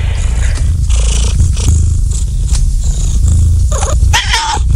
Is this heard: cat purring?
yes